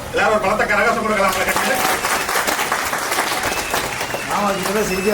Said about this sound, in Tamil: எல்லாரும் பலத்த கரகோஷம் கொடுக்கலாம்.